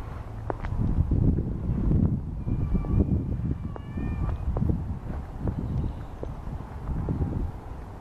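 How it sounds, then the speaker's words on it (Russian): Cats fight and meow in a residential courtyard garden, with several short yowls and cries rising over a noisy outdoor background, fairly close. "кошки дерутся."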